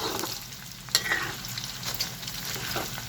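Pork cracklings, made from pork in oil, fry with a steady, close crackling sizzle and occasional sharper pops, heard alone without voices.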